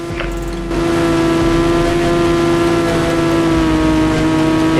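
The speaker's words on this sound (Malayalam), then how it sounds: "ഇച്ചിരി ഡ്രിഫ്റ്റിംഗ് ഒക്കെ ചെയ്യാട്ടാ ബൈക്ക് പിടിച്ചിട്ട്" A motorbike drifting in the mobile game Indian Bike Driving 3D, a loud, steady synthetic engine drone with a constant pitch that kicks in after a brief quieter start and holds without a break.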